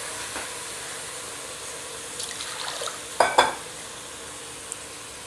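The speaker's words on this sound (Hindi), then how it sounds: "अब मैं इसमें अपने आलू ऐड कर दूंगी। और इसे 5 मिनट अच्छे से भुनने देते हैं।" Potatoes fry in a pan for a quick dum aloo, giving a soft, steady sizzle with a couple of sharper stirring scrapes midway, quiet and with no talk.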